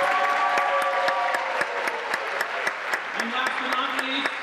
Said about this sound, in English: Let's have one last final thank you and applause for all of those who are stars this evening.